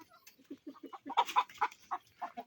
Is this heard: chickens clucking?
yes